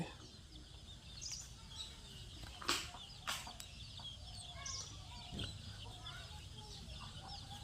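Chicks and hens feeding in the morning, with soft clucks and scattered high chirps over a faint outdoor background, plus a couple of sharp brief knocks.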